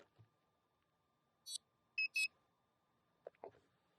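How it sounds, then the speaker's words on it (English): Short electronic beeps from a Flywoo Explorer LR 4-inch FPV drone as its GPS acquires satellites, a few sparse high chirps and blips, close and quiet, in an otherwise silent room. "So those occasional beeps, I think, have to do with the GPS and everything else kind of clicking on, acquiring satellites"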